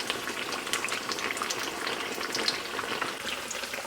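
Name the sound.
frying food in a pan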